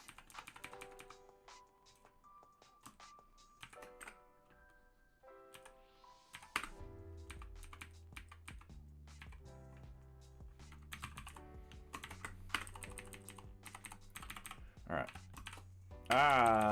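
Keys clatter on a computer keyboard in quick irregular bursts and pauses, fairly close and moderately quiet, over soft background music.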